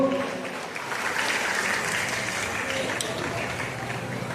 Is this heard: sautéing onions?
no